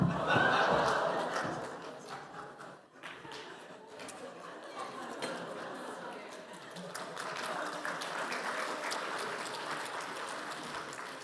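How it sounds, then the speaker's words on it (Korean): A church congregation at a Sunday worship service claps and laughs, a loud burst of applause at the start that fades into scattered clapping and chuckles, with a preacher's voice speaking over it. "저한테 박수해 준 거예요? 사탄한테 박수해 준 거예요?"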